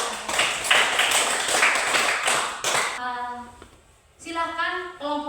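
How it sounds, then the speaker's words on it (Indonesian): Several seconds of close, rapid clapping from a small group after a group presentation, fading out as a voice begins speaking. "kita berikan tepuk tangan"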